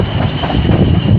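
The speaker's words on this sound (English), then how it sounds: "you can only see it with this train that's coming in." A train pulling into a platform at Clapham Junction station, a steady loud rumble of wheels and carriages filling the whole moment with no voices.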